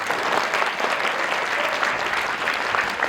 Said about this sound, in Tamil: கைத்தட்டுவோமே